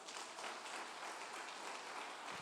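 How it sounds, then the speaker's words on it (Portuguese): A church congregation clapping hands during a Portuguese-language sermon, a dense, even patter of claps at moderate volume with no voices over it. "Bata as palmas para Ele."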